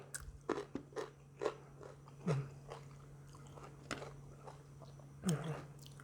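Someone chews pickled shallots alongside grilled Isan sausage, with soft close crunches and bites repeating every second or so over a faint steady background hum.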